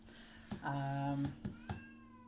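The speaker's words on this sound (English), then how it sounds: "Oh, that's my kitty. He wants in." A cat meows to be let in: one drawn-out, nearby meow, with a few soft knocks and thumps around it.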